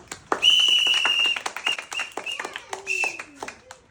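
Onlookers at a blindfolded jumping game in a village clap in scattered, uneven bursts, with voices and shouts mixed in among the claps.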